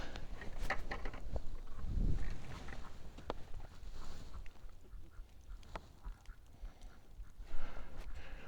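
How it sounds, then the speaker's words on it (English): Ducks quacking and geese honking outdoors in winter, scattered calls over steady wind and background noise, moderately distant. "What the ducks and the geese are doing."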